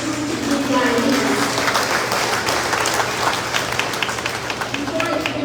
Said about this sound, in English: Give yourselves a round of applause for always staying true to the Guyanese.